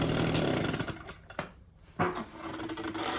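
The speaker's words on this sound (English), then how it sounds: "Adjusted the carb a bit, let it idle, mitigated the smoke." A small engine runs with a buzzing, rattly idle after a carburetor adjustment, dipping briefly in the middle before picking back up, heard close and alone.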